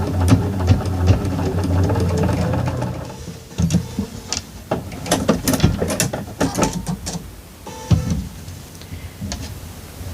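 A sewing machine sews a quilt corner unit, a steady close mechanical run at first, then stopping and starting with clicks and short ticking bursts, no talk.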